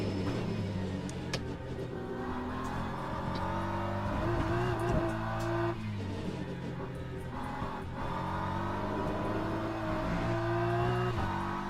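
A racing car engine in an arcade racing video game revs continuously, its pitch rising and falling through gear changes, loud and steady for the whole stretch, with occasional faint tire noise and a voice briefly talking over it.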